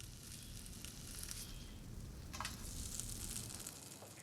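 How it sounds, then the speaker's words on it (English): Fish sizzle in a preheated pan in a farmhouse kitchen, a steady hiss and crackle at low level with a few brief scraping stirs. "frying them in a preheated pan"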